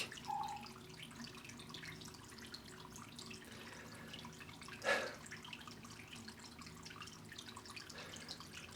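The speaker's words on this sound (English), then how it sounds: "At least I still have my waterfall." Water flows continuously and quietly in the background, a soft steady wash with one brief louder splash partway through.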